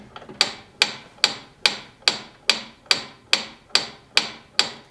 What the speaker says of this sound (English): Okay, ticking clock almost